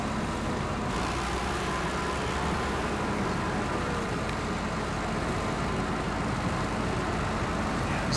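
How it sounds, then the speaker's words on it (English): A loud truck passes on a snowy road, heard as a continuous broadband roar of engine and traffic noise at a fairly even, moderate level throughout, with no speech. "Yeah, this is definitely a loud truck."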